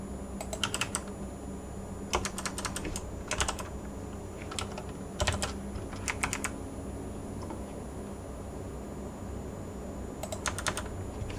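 Bursts of typing on a computer keyboard while writing Rust code, quick clusters of crisp key clicks separated by short pauses, close and fairly quiet over a faint steady hum.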